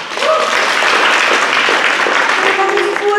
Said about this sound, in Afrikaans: Gee julle twee net 'n hande klap.